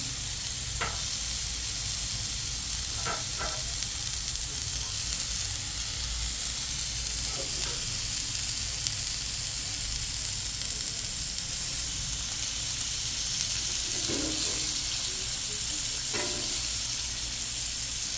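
Butter and thyme sizzle steadily alongside a NY strip steak on a Blackstone griddle, a constant close hiss with occasional clicks and scrapes of a utensil, no talking.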